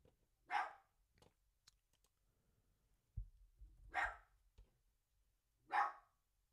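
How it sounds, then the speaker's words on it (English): A pet dog barks indoors, three sharp separate barks spaced a couple of seconds apart, fairly faint, with light thumps and shuffling between them. "my dog loves to bark"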